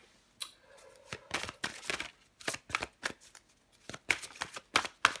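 Tarot cards being shuffled by hand, a quick series of crisp, close riffling bursts with short gaps between them, heard alone without talk.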